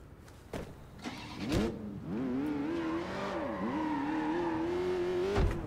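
A car engine in the video game Sleeping Dogs kicks into life, then settles into a loud, steady whine that rises and dips as the car is driven, with a few thumps at the start and end.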